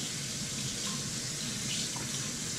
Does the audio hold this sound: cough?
no